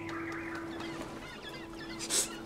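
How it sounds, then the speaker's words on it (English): Cartoon birds cluck and squawk in the adventure game Broken Age, a busy run of clucks and honks over a steady tone, ending in a louder shrill burst near the end. "Fucking birds."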